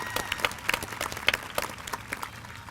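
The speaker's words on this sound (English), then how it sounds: "Give them a nice round of applause." Applause at a high school commencement ceremony for the band, a dense, moderately loud spread of many hands clapping together with no voices over it.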